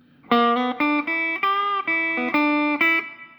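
A guitar plays the sliding phrase from part B of the Old Bones Blues exercise: a run of clear plucked notes that glide smoothly between pitches, with short gaps between them, played close and alone with no one talking.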